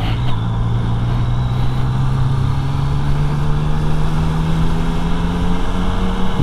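A Yamaha Tracer 900 GT motorcycle rides along the road with a steady, loud engine drone that climbs gradually in pitch, mixed with constant wind rush and no voices.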